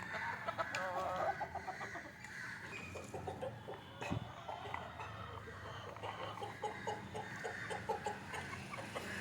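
Several native country chickens cluck busily and continuously at close range, with a brief sharp knock partway through and a faint crow in the mix.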